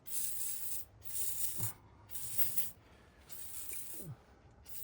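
Repeated hissing bursts of an aerosol can spraying down the engine bay of an AMC Rambler abandoned since 1983, four or five sprays of about a second each with short pauses between them and no talk.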